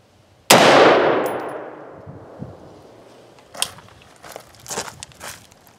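A single loud, sharp rifle shot from a .223 firing a cast zinc bullet rings out and echoes away. Scattered clinks and footstep-like knocks follow.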